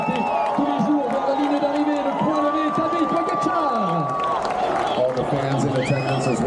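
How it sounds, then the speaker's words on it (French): At the Tour de France final-day presentation, a large outdoor crowd cheers and claps beneath a loud announcer's voice and music, with whoops rising over a constant roar. "Tadej Pogacar, voilà les applaudissements."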